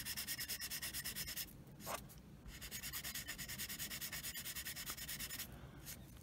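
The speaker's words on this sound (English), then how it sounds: "Basically, I sand it down till it looks like just the panel line width" Sandpaper rubs putty along a panel line on a scale model, a close, steady back-and-forth scratching in quick even strokes with a few brief pauses.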